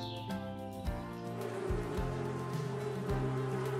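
Honeybees buzz steadily around their hives at a campsite in a dense drone over low rumbling background noise, continuous throughout with no voices.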